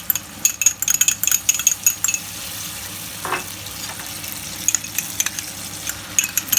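Garlic and ginger paste stirred into frying onions in a pan for a lamb and pulse haleem, with steady soft sizzling and scattered sharp scraping clicks of a utensil against the pan, close and moderately quiet.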